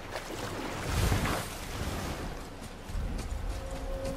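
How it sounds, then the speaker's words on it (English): Huge waterfall in the God of War video game, a steady broad roaring rush of water with gusty swells, continuous and unbroken without any talking. "Wow, I've never seen a waterfall so big."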